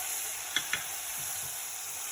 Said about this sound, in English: add in your chopped tomatoes and green chilies and give the mixture a really good stir